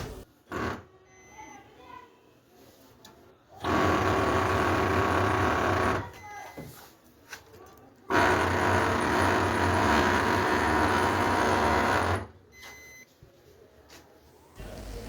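A Ricoh Aficio MP 301SPF printer running with a faulty transfer roller, giving two loud sustained mechanical whirring bursts of about four seconds each, separated by quieter clicking and rattling gaps.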